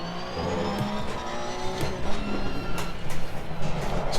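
Race car engine in Assetto Corsa Competizione droning steadily with shifting harmonic lines as it drops gears, plus faint tyre noise, continuous and fairly loud throughout.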